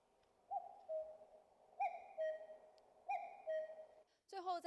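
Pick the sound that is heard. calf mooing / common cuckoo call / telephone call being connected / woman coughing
common cuckoo call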